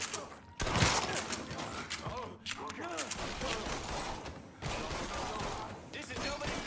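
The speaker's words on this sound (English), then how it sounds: "He's shooting!" Gunfire erupts in a tense shootout in Mafia III: Definitive Edition, with sharp bursts and broadband cracks amid clattering game effects, and voices talking over parts of the exchange.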